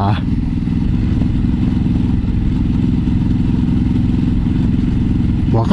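A 2016 Ducati Hypermotard 939 being ridden on a public road, its engine loud and close with a steady rough throbbing and clattery mechanical texture, rising briefly in revs at the very start and end.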